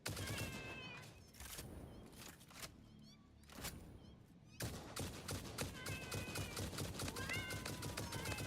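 Cats meow repeatedly in a factory-set video game, several close overlapping mews mixed with bursts of rapid gunfire, dense and loud throughout.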